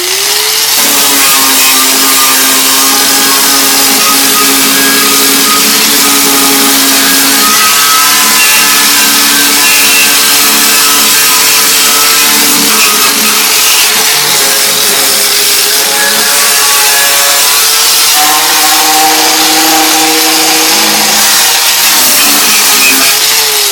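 A power tool wire wheeling or drilling a car fender: a loud, steady high-pitched motor whine with a bright grinding hiss that holds with slight pitch changes, close, with no talk.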